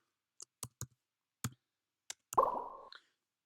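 A computer mouse gives several sharp, separate clicks spread over a few seconds, close and quiet in an otherwise silent setting, followed by a short rustling rub.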